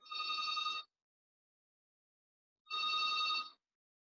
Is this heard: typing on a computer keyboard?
no